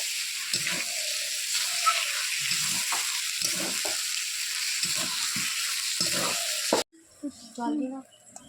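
Stingray pieces coated in spice paste fry over low heat in a pan, a constant hissing sizzle with intermittent spatula scrapes and a voice talking over it, then the sizzle cuts off abruptly near the end.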